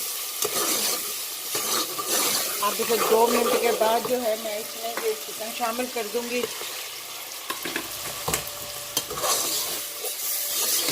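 Golden fried onions with tomatoes sizzling and frying in a pan for chicken do pyaza, continuous crackling sizzle with stirring scrapes throughout while someone talks over it.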